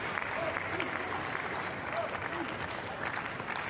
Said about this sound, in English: Wawrinka just gives Hurkacz a clap. The crowd liked it